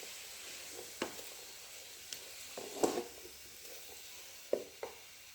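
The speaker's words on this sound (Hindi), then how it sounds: "इसमें डाले हैं 2 बड़े साइज़ के प्याज काट करके, और डाल देंगे घी, और प्याज को कर लेंगे ब्राउन।" Chopped onions fry quietly in ghee in a karahi, a soft steady sizzle broken by a few sharp clinks and scrapes of stirring.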